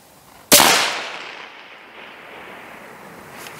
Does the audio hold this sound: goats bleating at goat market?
no